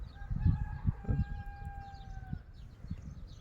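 Pet birds in a cage on a planted balcony chirping in short, scattered bursts under low rumbling background noise.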